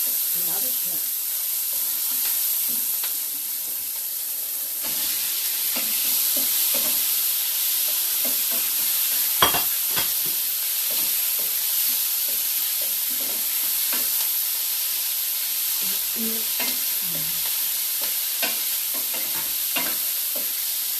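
Shrimp frying in a pan over low heat, a steady bright sizzle and hiss running throughout with intermittent stirring scrapes and clinks, close and fairly loud, with a few faint voice sounds underneath.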